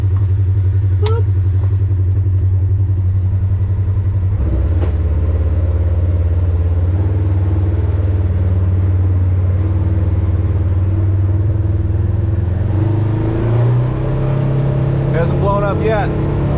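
A side-by-side UTV engine idles steadily after an oil change, a loud, close, continuous low rumble that shifts pitch slightly near the end, with people talking over it.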